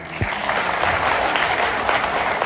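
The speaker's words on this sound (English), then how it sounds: "massive round of applause to these guys" A large conference crowd at eXp Barcelona gives sustained applause, a loud, even roar of many hands clapping throughout with no break.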